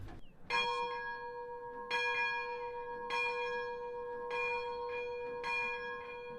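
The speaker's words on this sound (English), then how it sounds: "there's the bell to say take a shot" A tavern bell, pulled by a white handle, rings out to signal a round of shots in a mineshaft-themed bar in New Mexico; five or six loud, clear strikes at steady intervals, each ringing on and overlapping the next.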